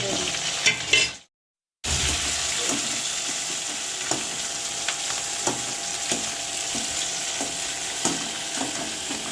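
Potatoes for aloo chorchori sizzle and fry steadily in a pan with occasional stirring scrapes, close and continuous, broken by a brief silent gap near the start.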